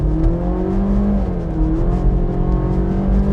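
A BMW 120i F20 hatchback engine revs under acceleration, heard from inside the cabin as a steady, rising and falling drone.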